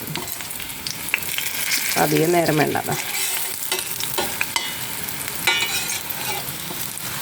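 Sweet potato cutlets shallow-frying in a little oil, a steady close sizzle with the scrape of stirring throughout and a brief spoken line partway through.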